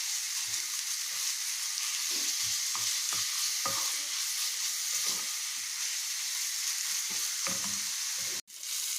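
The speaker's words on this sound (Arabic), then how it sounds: "على طول هحط اللحمه المفرومه بتاعتنا عشان اعصجها كويس مع البصل" Minced meat sizzles in a pan with onions under a constant hiss of frying, broken by a series of scraping stirs with a utensil and a sharp clack near the end.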